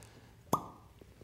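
A single soft pop of a cork eased out of a wine bottle with a lever corkscrew, short and close, in a quiet room.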